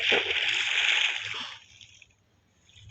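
Splashing and sloshing water in the video game Minecraft, a bright noisy burst for about a second and a half that then fades to near quiet, with a faint low hum beneath.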